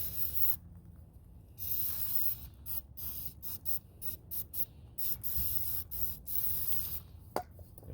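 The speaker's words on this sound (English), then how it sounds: "Now I'll just spray this." An aerosol can hisses in a series of short and long bursts, close by, with brief quiet gaps between sprays and no talking.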